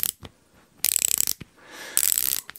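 Torque wrench ratchet used on car tyre work, two bursts of rapid close mechanical clicking with quieter handling noises between them.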